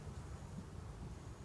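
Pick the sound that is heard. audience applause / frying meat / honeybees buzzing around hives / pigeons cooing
honeybees buzzing around hives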